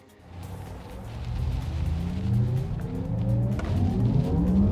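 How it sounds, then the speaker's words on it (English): A Porsche Taycan RWD electric car driven with its synthetic electronic sports sound, a spacecraft-like whoop that rises and falls in pitch under road and tyre noise, heard from inside the car without talk. "they do give you this electronic sports sound option, which is meant to make it sound like a bit of a spacecraft"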